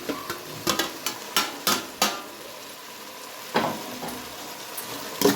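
Two large chopped tomatoes are sautéed in a pan. A spatula scrapes and knocks in a series of short, uneven strokes over a soft background sizzle, with a pause midway and no talking.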